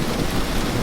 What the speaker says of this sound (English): a storm's beginning to brew